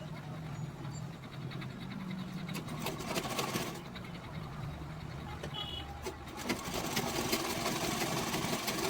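An electric sewing machine stitches the seams of a cloth bag in bursts of rapid mechanical whirring, pausing and restarting, close and fairly loud with faint background voices.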